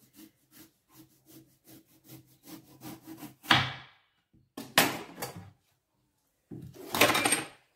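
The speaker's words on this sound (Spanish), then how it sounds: "voy a cortar la berenjena. Voy a ver si la puedo cortar lo más finita." A knife slices eggplant thinly on a cutting board for eggplant rolls with cheese and bacon: a run of soft, evenly spaced strokes, then a few louder, longer scraping cuts, close by with no talking.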